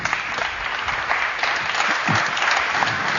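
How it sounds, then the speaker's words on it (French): An audience at a basketball shooting drill session gives loud, steady applause, a dense wash of many hands clapping continuously for a few seconds. "on peut les applaudir."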